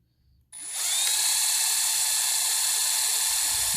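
A Milwaukee M12 cordless drill is switched on and runs in reverse, a sudden whining motor spin-up that holds a steady high-pitched hum close to the microphone, after a quiet moment.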